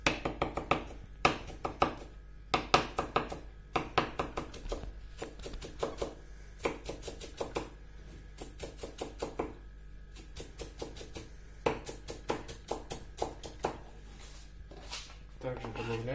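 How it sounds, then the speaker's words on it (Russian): A knife chopping dill on a cutting board in a home kitchen, quick bursts of rapid crisp taps in clusters with short pauses, fairly close and moderately quiet. "Нарежем укроп."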